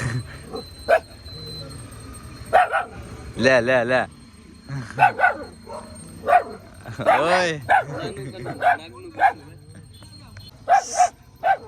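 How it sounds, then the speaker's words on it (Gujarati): A dog gives repeated yipping barks and whines at close range while a person calls out to it between the barks. "હવે સામે ડોગ છે, ના ભણે"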